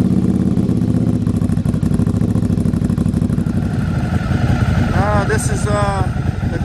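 A 2013 Ducati Monster 1100 EVO engine with a Werkes competition exhaust idles steadily up close while warming up from cold, with a low, even rumble, and a voice speaks briefly near the end.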